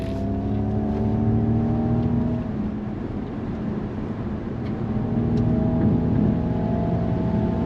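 Ford Mach-E GT electric car accelerating at full throttle, a steady rising electric whine over broad road and wind roar from inside the cabin, continuous with no voices.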